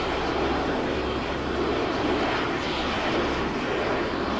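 Steady broadband roar of a VTOL aircraft engine on a vehicle in a G.I. Joe-style video game mod, continuous and loud with no talking over it.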